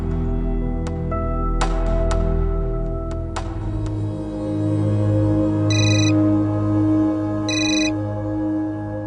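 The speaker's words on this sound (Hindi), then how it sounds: "खुदा बख्श का फोन।" A telephone ringtone chimes in short repeated bursts over a low indoor hum, with a few sharp clicks between rings, fairly close and clear.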